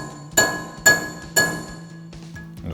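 Three sharp metallic hammer strikes on a chisel, evenly spaced, prying off the axle nut cover on a Toyota Tacoma front hub, each ringing briefly, followed by a few lighter clinks; no talking.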